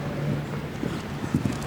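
Horse hooves at a Spruce Meadows show jumping event, several soft muffled clip-clops in an uneven rhythm over steady outdoor background noise.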